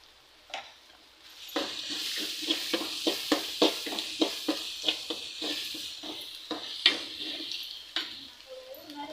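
A spatula scrapes and stirs onions and spice powder in a pan for pori upma, making a steady rhythm of about a dozen strokes over a light sizzle, close by with no talking.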